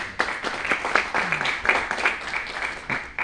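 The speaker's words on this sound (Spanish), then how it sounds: "Un fuerte aplauso para él." Applause from an audience at a book presentation, steady scattered clapping lasting the whole stretch at moderate level, with a few sharper individual claps standing out.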